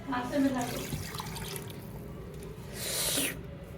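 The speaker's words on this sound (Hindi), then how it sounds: "तो अब हम इसके अंदर तकरीबन 1 लीटर पानी शामिल कर देंगे।" Water pours into a pot of beef bone curry, a brief gurgling splash following a stretch where someone talks in Hindi over faint kitchen sounds.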